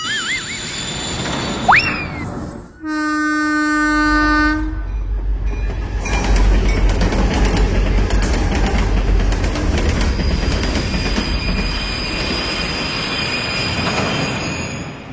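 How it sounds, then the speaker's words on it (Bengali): A train horn blares loudly for a couple of seconds, then a train rolls in close by with heavy rumbling, rattling wheels and squeals. "এই তো একটু পরেই একটা ট্রেন ঢুকবে।"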